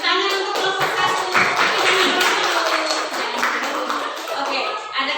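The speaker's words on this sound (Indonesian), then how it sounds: "tepuk tangan untuk kelompok 1" Classroom clapping for a student group after its presentation, a dense round of hands mixed with children's voices and chatter, fairly loud and continuous throughout.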